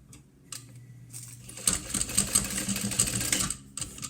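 A home sewing machine bastes a fabric card slot onto a cash-card mini wallet: a quiet hum at first, then a rapid mechanical stitching rattle for about two seconds that stops abruptly, close and moderately loud.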